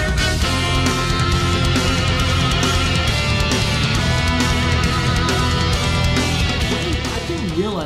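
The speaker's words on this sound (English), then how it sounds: "I didn't realize a cello could produce sounds like this." Dense, heavily distorted cello drives a loud, continuous heavy metal passage with a thick low end and no pauses.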